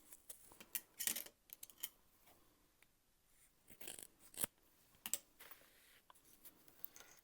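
Scissors snip through zipper tabs for a sewing project, a few faint, crisp cuts and rustles scattered across an otherwise quiet stretch.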